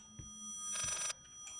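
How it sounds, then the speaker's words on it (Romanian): A telephone rings in the horror video game Layers of Fear: one short, faint electronic trill that stands alone in a quiet scene. "Ah, chiar era un telefon."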